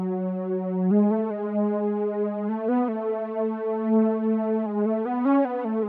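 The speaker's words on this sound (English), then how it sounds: "It is the Eurodance preset, which you can find in their soft leads" A soft synth lead from the Eurodance preset in Expand 2 plays a simple melody of sustained notes with small upward steps, smooth and moderately quiet with no percussion or voices.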